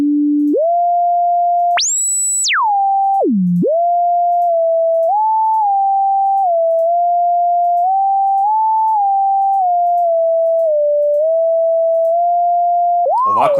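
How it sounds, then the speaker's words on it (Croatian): A pure electronic sine test tone like the standard A4 reference, held steady but stepping up and down in pitch with one brief high jump, loud and clean with nothing else heard. "Ovdje su tonovi, dakle A4 ono je standard. On je 440"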